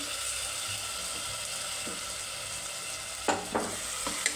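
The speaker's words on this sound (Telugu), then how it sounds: "ఇప్పుడైతే కట్ చేసి పెట్టుకున్న టమోటా ముక్కలను అయితే వేసేస్తున్నామండి" Chopped tomato pieces drop into a pan of frying onions, setting off a steady, close sizzle with a few sharp bursts near the end as they hit the hot oil.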